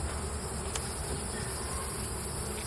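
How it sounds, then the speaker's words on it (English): Honey bees buzz around a hive box in a steady, dense drone that stays even and close throughout, with no voices over it. "There are a lot of bees still left in there."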